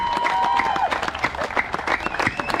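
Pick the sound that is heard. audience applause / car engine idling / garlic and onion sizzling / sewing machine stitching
audience applause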